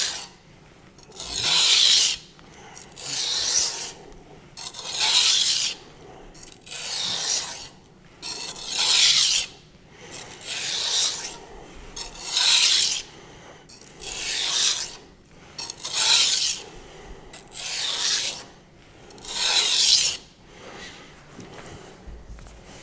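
Knife blade drawn in edge-leading strokes across a coarse 200 grit whetstone, giving about ten steady rasping scrapes in an even rhythm, close and fairly loud, with no talking.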